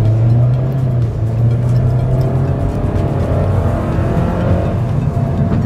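A 2017 Toyota Corolla GXR with a CVT held in a fixed ratio accelerates at full throttle, its engine droning loudly and steadily with a rising, grumbly tone throughout, close and continuous with no talking.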